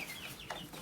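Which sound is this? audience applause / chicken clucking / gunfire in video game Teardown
chicken clucking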